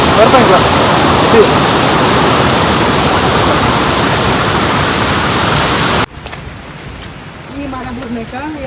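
Loud, continuous roar of Devaragundi Waterfalls for about six seconds, then it cuts away to quieter outdoor ambience with a faint voice.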